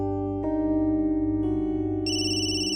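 A phone ringtone plays close and clear as a steady electronic melody of sustained tones, stepping up in pitch, with no talking over it.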